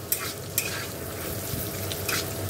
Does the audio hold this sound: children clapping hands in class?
no